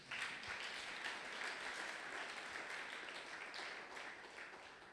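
A church congregation at a Sunday praise and thanksgiving service applauds the Lord, giving a steady, sustained wash of many hands clapping together at a moderate distance, unbroken throughout and fading slightly at the end.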